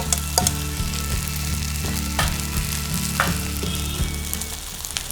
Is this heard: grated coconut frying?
yes